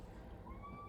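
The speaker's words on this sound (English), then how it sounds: "Sorry, that's my cat." A domestic cat meows once, a faint rising call near the end, over a steady low hum in an indoor room.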